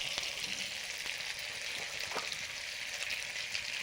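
Curry sizzling in a pan as tamarind water is poured in, a steady broad frying hiss with faint stirring clicks, close and continuous with no talk.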